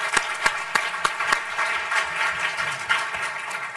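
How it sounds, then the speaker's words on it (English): Audience at a panel discussion on the global displacement crisis breaking into applause, opening with a few sharp distinct claps that swell into a dense sustained round before tapering. "Let's give them a round of applause."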